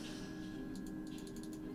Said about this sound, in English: I can hear frantic clicking.